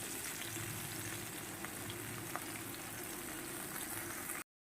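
Snake gourd and potatoes fry gently in a pan, a soft continuous sizzle that stays low and even, with no voices, then cuts off abruptly.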